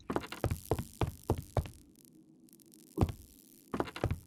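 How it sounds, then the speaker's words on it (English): An electric panel in a dark horror video game set in 1980 gives off a low, steady buzzing hum, heard faintly beneath a series of heavy, irregular thudding knocks. "I can hear the electric panel buzzing outside"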